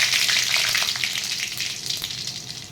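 Chillies frying in oil in a pan for a green gram curry, a bright crackling sizzle close up that is loudest at first and eases slightly, with occasional stirring and no speech.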